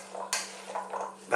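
Bean salad being tossed with dressing in a bowl for about a second, soft stirring scrapes and light clinks of utensil against the dish, close and fairly quiet, with a brighter clatter at the start and another at the end.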